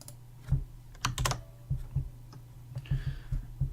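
Keys on a computer keyboard are pressed one after another in an uneven rhythm, each a sharp, close, quiet click, with no talking.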